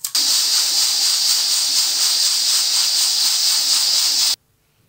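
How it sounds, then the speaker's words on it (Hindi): Steam hisses loudly and steadily from a pressure-sealed pot of chicken handi, one continuous broadband release lasting over four seconds before cutting off abruptly into silence. "जब इसकी स्टीम रिलीज़ हो जाएगी"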